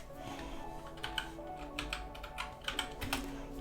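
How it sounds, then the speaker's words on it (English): Password being typed on a computer keyboard during a Linux Mint setup, a run of quick, close plastic key clicks in uneven bursts over a steady low room hum. "Just type in my password there."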